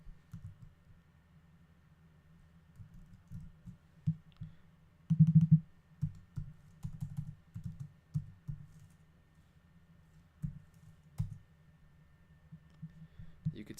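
Computer keyboard typing in a quiet room: soft, close key clicks come in irregular bursts, with a denser flurry about a third of the way through, and no voices.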